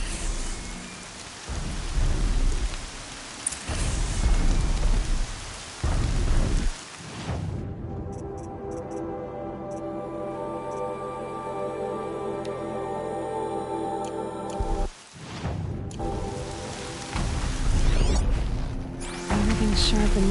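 Heavy rain pours steadily with rumbling thunder rolling through, loud and continuous, with brief quieter breaks before the downpour surges back.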